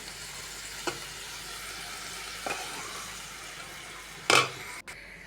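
Fish and cauliflower curry frying in a pan: a low, steady sizzle broken by a few sharp spoon clinks and one louder scrape near the end, close by with no speech.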